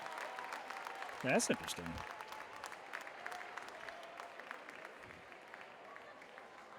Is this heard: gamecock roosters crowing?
no